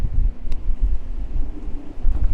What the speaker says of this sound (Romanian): Cam ne dansează la ancoră, la cât de mare e vântul.